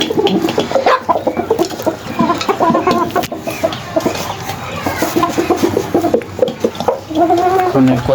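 Pet chickens clucking busily at feeding time, a near and lively chorus of repeated clucks and squawks that runs throughout, with faint voices in the background.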